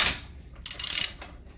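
A short burst of metallic ratcheting clicks as a tool tightens a bearing race into the steering head of a Yamaha Bolt motorcycle, close and fairly quiet.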